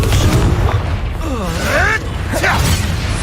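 A Confringo fire spell blasts in the video game Hogwarts Legacy: a booming, crackling burst with swooping magical whooshes and a second burst shortly after, loud and close over a busy game soundscape.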